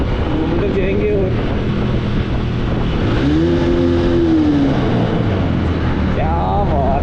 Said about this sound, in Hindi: टनल में तो मैं थ्रॉटल दिए बगैर रह नहीं सकता, तो हम लोग तो शिफ्ट करेंगे तीसरे में